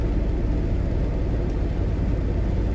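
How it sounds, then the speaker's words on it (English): Wind noise inside a moving Porsche 944, a steady, loud, broadband rushing hum with low road rumble that continues unbroken and with no talking. "I just hear wind noise, and it's not that bad."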